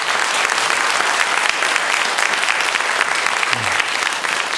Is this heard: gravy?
no